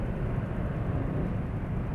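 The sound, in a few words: rough motorcycle engine running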